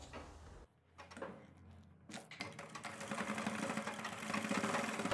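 A sewing machine stitches elastic onto umbrella palazzo fabric. It starts with a few hesitant clicks, then settles into a close, steady, rapid rhythmic whirr that grows louder toward the end.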